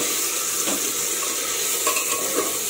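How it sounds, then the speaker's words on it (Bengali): Chicken pieces, four large ones for a home-made chicken pulao, sizzle and fry steadily in a pan, with a few soft scrapes and utensil touches as they are stirred; close and continuous, no talking. "আমি চিকেনগুলো দিয়ে দিলাম, এটা হালকা একটু কষিয়ে নেব।"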